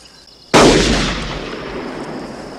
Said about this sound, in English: You must be shooting that over there.